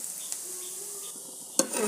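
Mola fish heads fry in a pan with a soft, steady sizzle, broken by a couple of sharp utensil clinks and scrapes near the end.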